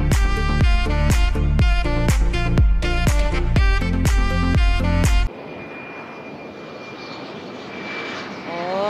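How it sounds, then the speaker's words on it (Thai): A private jet's engine gives a steady broadband roar with a thin, sustained whine at an airport. It follows several seconds of loud, rhythmic music. "เครื่องบินเจ็ตเครื่องบินเจ็ต"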